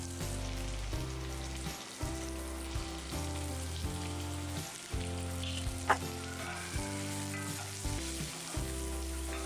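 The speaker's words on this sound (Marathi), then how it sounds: "आता या स्टेजला हा जो कांदा आहे तो नरम होईपर्यंत किंवा लालसर असा गुलाबी होईपर्यंत आपण तेलामध्ये मस्तपैकी भाजून घेणार आहोत." Long-sliced onions fry in oil for a Kolhapuri mutton curry. A steady, close sizzle carries on throughout, broken by occasional stirring and scraping, and no one speaks.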